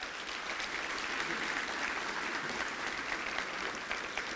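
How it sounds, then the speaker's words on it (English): A gala audience breaks into steady applause, a dense wash of clapping that holds at an even level for several seconds without any voice on top. "Please give them all a round of applause."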